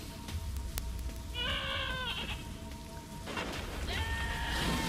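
Sheep bleat in a rainy video game, a wavering animal call that sounds twice, fairly close, over a steady background of falling rain and low ambient noise.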